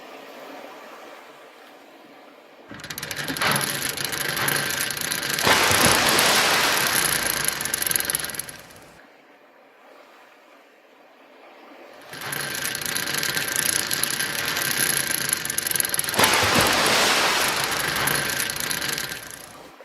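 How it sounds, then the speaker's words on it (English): Ship's anchor dropped at a beaching yard: two long bursts of rattling chain paying out with grinding metal clatter, each lasting several seconds, separated by a quieter gap of low mechanical hum. "the anchor is dropped down"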